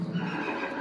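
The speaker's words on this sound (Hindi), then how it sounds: "How do you know they got horses in there? It's a horse barn, Leo." Horses neigh and whinny inside a barn in the video game A Way Out, a short, close, fairly loud burst of horse sounds with no talking.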